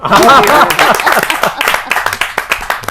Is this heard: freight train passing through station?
no